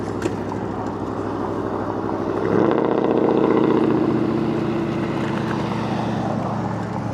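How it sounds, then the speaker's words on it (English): Deep, throaty motor engine rumbling steadily through a hard evening ride, swelling louder for a second or two midway before settling back to a constant drone. "Throaty motor there."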